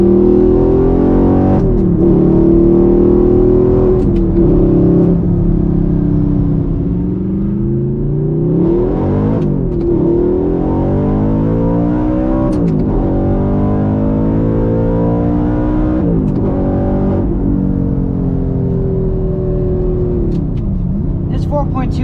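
A loud 4.2-litre V8 engine in a 2014 Audi R8 with gated manual revs repeatedly, rising and falling in long sweeping pulls with a deep, throaty roar close by.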